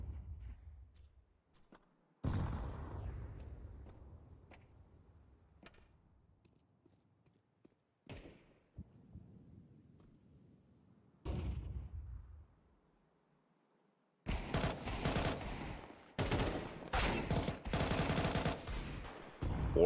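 Desert Eagle pistol shots in a competitive esports video game match: a few loud single shots with ringing tails spaced seconds apart, then dense, rapid bursts of near gunfire toward the end.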